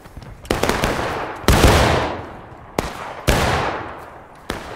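Gunfire in the American Civil War game War of Rights: several loud, sharp shots crack out in irregular succession, each trailing off into a long echoing rumble, with no voices.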